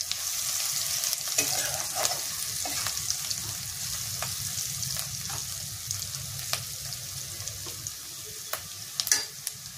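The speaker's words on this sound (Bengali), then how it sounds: "লঙ্কাটাও ভেজে নেব" Chillies frying in hot oil for chickpea ghugni, a constant close sizzle with scattered clicks and scrapes of a spoon in the pan.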